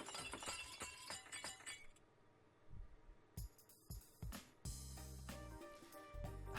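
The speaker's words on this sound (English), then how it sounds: "A second later, I hear the sound of breaking glass." Glass cup shattering in a video game scene, a loud crash with scattered clinks and tinkling fragments, mixed with other game sounds and music, no talking.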